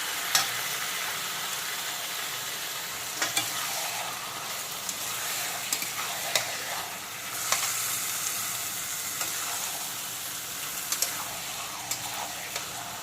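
Country chicken pieces frying with spices in a pan over low to medium flame, a steady broad sizzle with occasional sharp spatters and scrapes as the meat is stirred, close and continuous with no talking.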